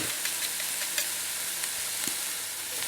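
Crushed garlic with softened vegetables gently sweating in a pan for chicken and asparagus risotto, a steady, quiet sizzle and crackle with faint pops throughout, no voices.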